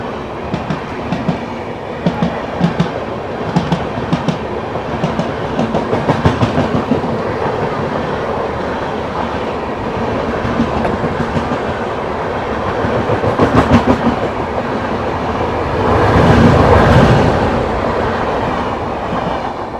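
The Ganga Sutlej Express, running Dhanbad to Firozpur Cantt, rolls past on the rails with loud rhythmic clickety-clack of wheels over joints and a rising rumble as heavier cars go by, no voices.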